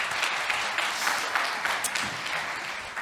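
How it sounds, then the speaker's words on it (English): An audience applauds at a startup pitch competition, a steady wash of many hands clapping at moderate distance throughout, with no pauses. "Let's have a round of applause."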